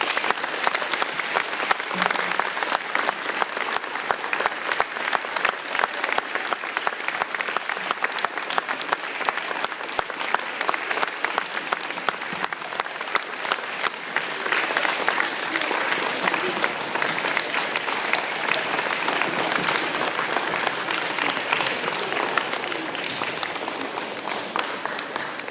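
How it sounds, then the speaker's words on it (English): Audience applause at a school gathering, a steady dense wash of clapping that holds loud and even for the whole stretch without letting up. "Let's give Chris one big round of applause."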